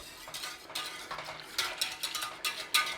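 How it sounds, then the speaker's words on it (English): A spoon stirs corn flour into warming milk in a pan, with quick repeated scraping and clinking strokes against the metal, close and moderately loud. "with a little bit of corn flour and we're going to give that a stir"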